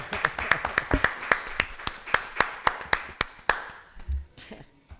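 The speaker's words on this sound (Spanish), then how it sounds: "Un aplauso a todos." Scattered applause from a small audience at the close of an Argentine legislators' event on digital health, with separate claps in an uneven rhythm over about three and a half seconds that then thin out into a few faint noises and murmurs.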